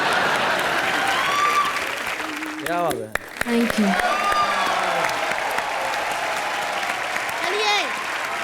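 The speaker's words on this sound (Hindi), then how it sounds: "तालियां, तालियां, तालियां" Studio audience applause on a live comedy show, sustained clapping throughout under lively talk, with short exclamations and a brief musical tone mixed in.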